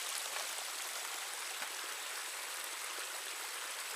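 Rainwater runs down a flooded Appalachian Trail in the Smoky Mountains as a steady, close rushing stream, with no voices over it.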